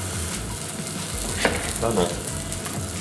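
Vegetable patties fry in a pan with a steady, quiet sizzle that continues under a brief spoken word.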